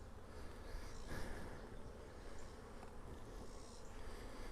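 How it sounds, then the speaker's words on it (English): Honey bees at a hive in a Kentucky apiery while weak colonies are being combined, a continuous close, even buzzing drone that fills the whole stretch with no talk. "There's plenty of bees down here to take care of things."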